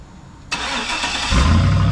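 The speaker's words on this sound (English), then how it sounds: "So go ahead and start it up" A truck engine with its muffler removed cranks and catches, then settles into a loud, steady idle with a deep rumble, close by.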